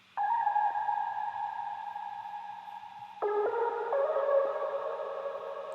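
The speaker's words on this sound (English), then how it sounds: "I also make like a little bit of a counter melody to the main lead" A synth counter melody backing the main lead of an electronic track, a bright sustained tone holding steady notes, then shifting to a new higher phrase partway through, with no voices.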